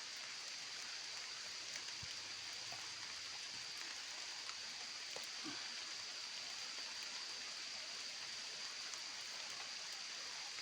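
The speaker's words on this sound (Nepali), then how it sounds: "पर चाहिँ पानी परो क्या, पानी परो।" Rain falls outdoors in a village as a steady, faint, even hiss that stays unbroken throughout, with only a few soft, isolated ticks and no talking.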